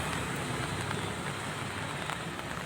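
Heavy downpour in Ernakulam, a dense, continuous hiss of rain falling steadily on surfaces, with faint passing-traffic rumble underneath and no voices.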